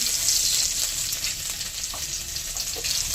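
Crushed garlic fries in hot oil with a dried red chilli and black cumin, a close, loud, continuous sizzle with faint stirring scrapes.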